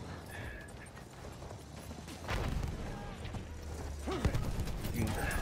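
A horse gallops in a video game battlefield with tanks and jeeps. Rhythmic hoofbeats clatter amid mechanical clanks and sharp gunfire bursts, and the action grows louder partway through.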